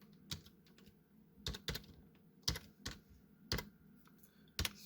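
Typing on a computer keyboard, a handful of quiet, separate key clicks and short double taps spaced irregularly over a faint background, with no talking.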